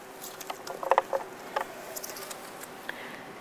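Soaked, drained pine nuts and macadamia nuts tumble into a Vitamix blender jar, a quick cluster of soft patters and light clicks near the mic, then fainter scattered taps in a quiet kitchen.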